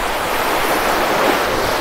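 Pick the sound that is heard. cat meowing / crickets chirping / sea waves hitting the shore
sea waves hitting the shore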